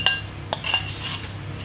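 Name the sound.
stirring biscuit mixture in bowl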